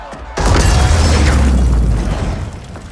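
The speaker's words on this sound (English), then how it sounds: "Big explosion." Big explosion in the fighting game Mortal Kombat 11, a sudden loud boom that rumbles deep and heavy for about two seconds before fading, with no voices over it.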